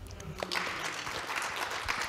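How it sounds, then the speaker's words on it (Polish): Applause from the audience at the uDOSTĘPniacze 2.0 award gala, a dense, even patter of many hands clapping at moderate volume with no clear voices. "Jeszcze raz ogromne brawa."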